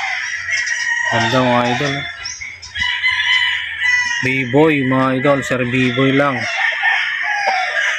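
Roosters from a champion gamefowl breeder's flying pen crow loudly, two long crowing calls with clucking around them, while someone talks over the birds.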